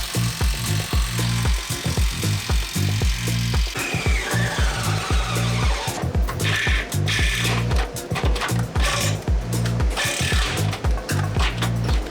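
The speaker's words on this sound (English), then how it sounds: "Now this Black & Decker drill just doesn't have what the Milwaukee's have." A Black & Decker cordless drill whirs loudly in close bursts, its motor revving and cutting in rapid pulses with mechanical grinding and chatter throughout.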